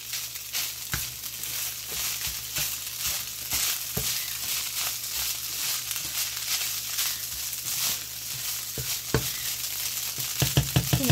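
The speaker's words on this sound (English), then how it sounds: "I'm going to just fry this up together." Panko breadcrumbs fry together in butter in a kitchen pan, a steady close sizzle running throughout, broken by frequent sharp crackles and scraping stirs, with louder pops toward the end.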